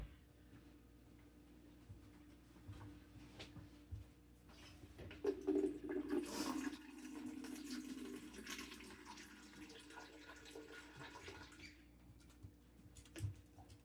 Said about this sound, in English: this is where I'm going to add a little bit of water because it does need just a little bit.